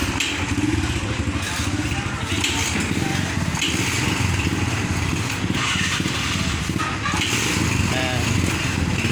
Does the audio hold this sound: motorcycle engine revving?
yes